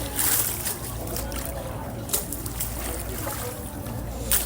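Tidal water of the Ganges surging in at a bathing ghat, a steady broad wash of lapping and sloshing close by with occasional splashes, under faint background voices.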